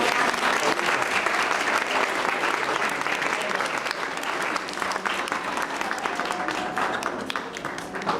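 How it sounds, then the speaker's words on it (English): Parents and guests at a primary school's Christmas nativity performance by young children give sustained, dense applause. The clapping runs steadily throughout, with a faint murmur of voices beneath it. "Give them another round of applause."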